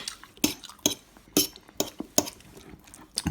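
Cutlery scraping and clinking against a plate as rice and meat are mixed together, a series of sharp close metallic taps at irregular intervals with quiet gaps between.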